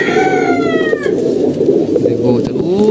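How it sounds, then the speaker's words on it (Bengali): Pigeons sunning outdoors coo close by in soft rolling phrases while someone talks over them. "ওই যে উপরে কিছু কবুতর আছে"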